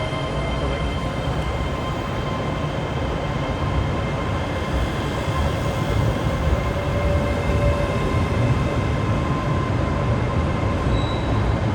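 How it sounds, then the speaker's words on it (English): ScotRail Express train departing Glasgow Central on the West Coast Main Line, a loud continuous rumble of wheels and traction with faint squeal tones throughout, close by and unbroken. "departing now is the 1518 ScotRail Express service to Lanark"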